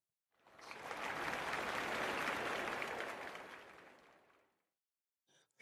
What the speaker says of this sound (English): Please join me in welcoming my panelists with a round of applause.